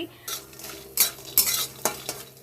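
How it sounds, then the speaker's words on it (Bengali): Lentil dumplings (bori) fry in a pan, a steady low sizzle broken by several sharp scraping stirs of a utensil against the metal, close and fairly quiet, with no voices. "পালং শাক হবে তাই বড়িটা ভেজে নিচ্ছি ভালো করে"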